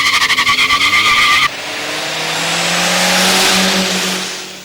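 A BMW and a Volvo racing in a heat: a pulsing, rapidly revving engine note cuts off into a loud, sustained tire squeal or skid that swells and fades, close and dominant.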